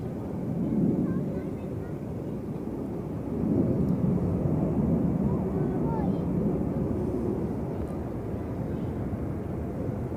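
Airliner taking off from runway 16 at Zurich Airport, a broad, swelling jet roar heard from a distance that builds and holds steady, low and rumbling, with someone speaking over it.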